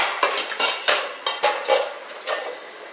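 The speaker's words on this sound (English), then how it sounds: "what you messing with my pots and pans" Metal pots and pans knocked and clattering on a kitchen stovetop while dinner cooks: a series of sharp, close clanks and scrapes, several in quick succession.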